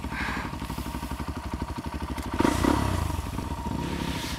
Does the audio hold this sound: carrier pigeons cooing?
no